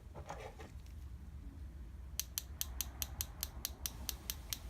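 A Craftsman ratchet turns and gives off a quick, even run of about a dozen crisp metallic clicks, heard close up after a brief faint rustle.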